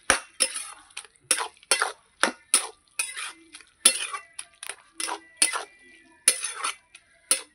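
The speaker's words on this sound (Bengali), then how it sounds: "এবার সব ভালো করে নাড়িয়ে নেব" A spoon stirs ash gourd curry with coriander leaves in a metal pan, making repeated sharp clinks and scrapes in an uneven rhythm, close and clear, with no talking.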